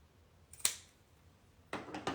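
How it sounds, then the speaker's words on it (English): Scissors cut elastic at a sewing table, giving two quick, close snips about a second apart against a quiet room. "So now I have my elastic cut."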